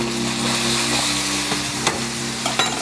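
Beef and broccoli stir fry sizzles in a wok, a close, loud, continuous hiss broken by a few clattering stirs and tosses.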